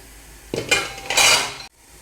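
Metal plate clattering into a steaming pot of hot water, a sharp clank followed by scraping and rattling of metal on metal for about a second, loud and close, no voices.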